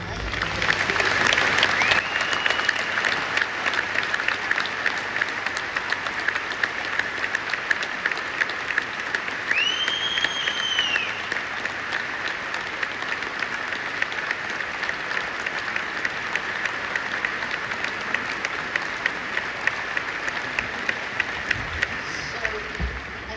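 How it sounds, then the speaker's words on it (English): Sustained audience applause at the Stephen Hawking Medal award ceremony, a dense continuous roar of clapping from a large hall that runs steadily for over twenty seconds, with occasional whistles and cheers rising above it. "they deserve a huge round of applause for bringing us all here tonight"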